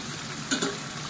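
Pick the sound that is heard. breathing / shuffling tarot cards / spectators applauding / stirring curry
stirring curry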